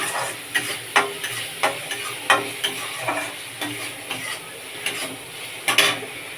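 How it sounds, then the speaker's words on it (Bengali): A spoon stirs spices and fried snake gourd in a pan, a regular series of scraping clacks about twice a second over a soft sizzle, close by with no voices. "দিয়ে ভালোভাবে নেড়ে নেব"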